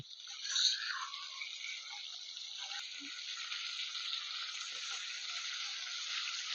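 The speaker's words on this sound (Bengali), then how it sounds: "মাছগুলি আমার একদিকে ভাজা হয়ে গেছে, আমি এখন আরেক পিঠ ভেজে নেব।" Loud, steady sizzling of pomfret fish frying in hot oil, close and continuous, with a brief louder burst early on.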